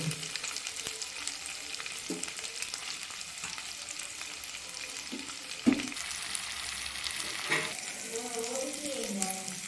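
Sea snails frying in a pan for a village-style snail curry, with steady continuous sizzling and occasional louder pops and stirring scrapes, close by and without talk.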